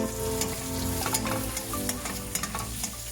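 Onions with spring onion sautéing in a pan for beef chilli, a dense close sizzle with stirring scrapes and clicks throughout, alone without talk.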